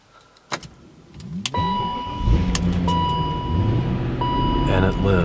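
A 2000 BMW M5 is started with a key: a brief starter whir catches into the engine, which settles into a steady, fairly loud idle close by, with faint clicks and background noise.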